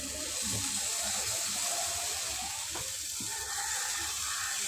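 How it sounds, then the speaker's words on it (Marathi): Appe batter goes into a hot appe pan, giving a steady, close sizzling hiss throughout with a few soft knocks and bubbling touches underneath. "तवा गरम झालेला आहे आता घालून घेऊया पहिला मी काय करते हे बघा साईडने घालून घेते"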